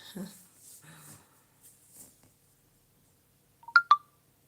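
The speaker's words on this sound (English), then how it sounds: "I can hear beeping sounds on my phone." Two short, sharp electronic beeps sound close together near the end, after a few faint murmurs and soft noises.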